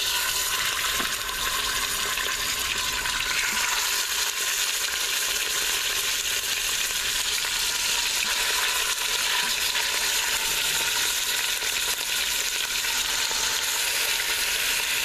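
Beef rouladen browning in hot melted grease in an Instant Pot produce a steady, loud, dense hiss and crackle of sizzling that carries on unbroken throughout.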